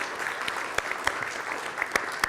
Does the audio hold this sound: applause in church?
yes